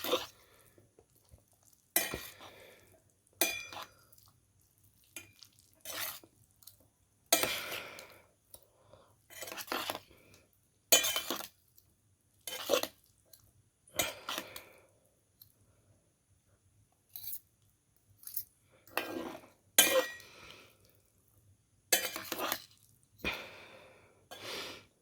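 Thick laksa nyonya paste is stirred into instant Mamee Chef mi goreng with utensil scrapes and clinks against the dish, in short separated bursts repeated over and over, close and fairly quiet against near silence.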